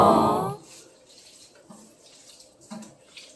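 Chicken intestines being rinsed under running water, starting with a loud, close gush from a tap that cuts off after half a second, followed by quiet splashes and small drips.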